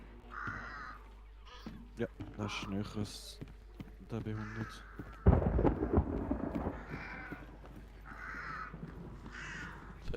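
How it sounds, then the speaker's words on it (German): Crows cawing in the video game Hunt: Showdown, several distinct harsh caws in bursts across the scene, mixed with a sudden loud rumbling noise midway, while a player talks over it. "Vögel."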